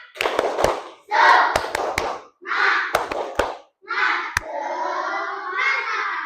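Schoolchildren in a classroom perform the tepuk semangat spirit clap, chanting in short bursts together while clapping sharp rhythmic patterns between and over their voices.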